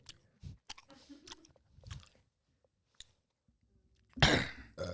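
Close-miked chewing in a mukbang-style ASMR setting: scattered wet crunches and mouth clicks, a brief throat-clearing or cough sound, then a loud crunchy burst near the end.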